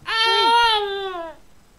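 An infant cries once in the horror video game Apartment 666, a single loud wailing sob lasting just over a second, close and clear over near silence.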